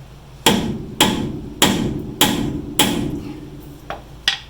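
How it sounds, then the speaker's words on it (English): Hammer blows ring out as a shock absorber sleeve is driven out of a new lower control arm on a classic Chevy truck: six sharp, loud metallic strikes about half a second apart, then two lighter taps. "So that's why I got to hammer this back out."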